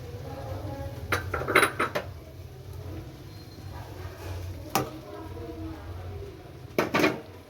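Boiled macaroni and vegetables being mixed in a pan over a low flame, heard as intermittent close metallic clanks and scrapes of a spoon against the pan, grouped early, once midway and again near the end, over a quiet background.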